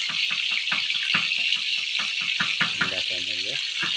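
Fish frying in a pan gives off a steady bright sizzle throughout, while someone talks over it.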